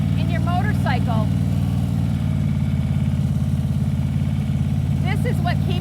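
A motorcycle engine runs at a steady, low idle while the rider holds the clutch in the friction zone. A voice briefly speaks over the constant hum.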